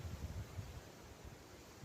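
Gusty wind outdoors near the dolmens above Argelès-sur-Mer close to the sea, buffeting the microphone with low, uneven rumbling gusts and no one speaking.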